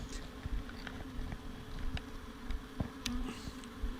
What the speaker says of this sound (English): The bees are happy.